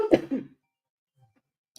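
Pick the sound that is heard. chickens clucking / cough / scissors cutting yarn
cough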